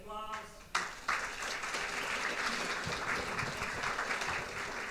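An audience at a community business luncheon in Atascocita breaks into sustained applause, a steady dense wash of clapping that starts abruptly after a brief voice and holds evenly to the end.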